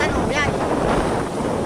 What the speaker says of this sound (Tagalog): Lakas na ng hangin at nakapasok na ang bagyo ay bagyong Wilma.